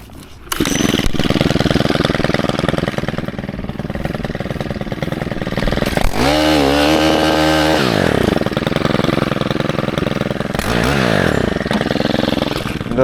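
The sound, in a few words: KM131R cultivator attachment breaking up flower bed soil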